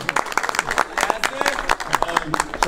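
An audience at a Tangier solidarity cup event applauds the president of Ittihad Tanger, with brisk, dense clapping close by mixed with voices and crowd murmur.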